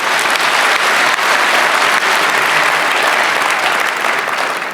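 Loud, dense applause from a conference audience fills the whole stretch, a steady wash of many hands clapping at once with no letup and no voices on top.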